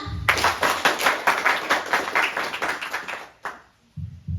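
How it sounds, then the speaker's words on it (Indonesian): Participants at a university community counselling session clap their hands together in a dense, lively burst that lasts a few seconds, then cuts off abruptly, leaving a brief low murmur. "Beri tepuk tangan."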